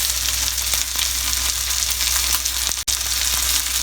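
Fried curry leaves are stirred into curry leaf pepper chicken, a loud, close, steady sizzle with spatula scrapes at a regular pace and a brief drop-out near the end.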